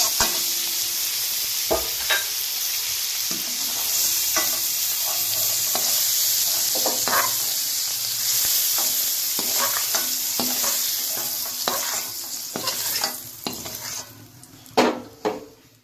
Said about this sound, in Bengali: তো বরবটিটাকে ভালো করে ভেজে নেবেন।